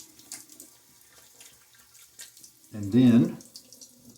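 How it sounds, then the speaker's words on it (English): A tap runs briefly into a sink for a splash of water during a wet shave with a Gillette Nacet blade, a short loud gush near the end after quiet murmured talk. "Let's do a little splash of water."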